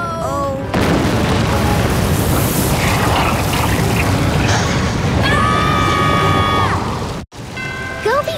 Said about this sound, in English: It's the volcano! It's about to erupt!